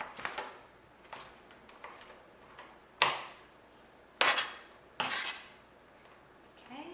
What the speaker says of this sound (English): so I'm going to slice them up some more.